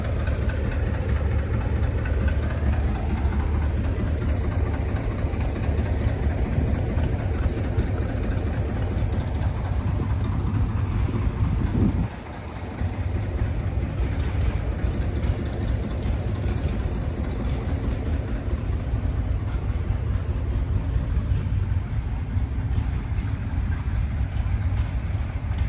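An International TD9 crawler tractor engine runs steadily at a vintage truck show and tractor pull, a continuous low rumbling idle close by with one brief dip midway.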